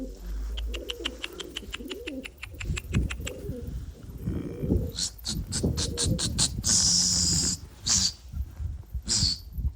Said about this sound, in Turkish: Yani kuşlar bile hissediyor güneşi sırtına yiyince gümbür gümbür oluyorlar.